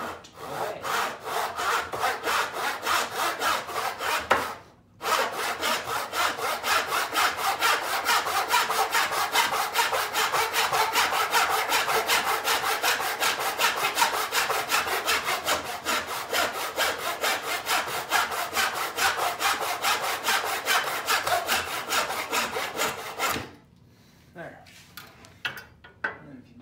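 A hand saw cuts a wooden trim board clamped in a vise, with fast, even rasping strokes running nearly nonstop, one short pause early on, then the sawing stops near the end, leaving a few light handling sounds.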